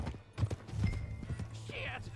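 Horse hooves clip-clopping at a gallop in Red Dead Redemption 2, a steady run of close hoofbeats heard under voices and game sounds.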